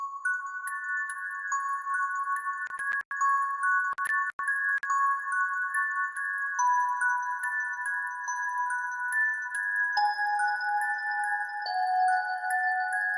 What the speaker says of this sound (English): I'm using Dream Bell and have it be pretty repetitive with a little bit of variation in the two last bars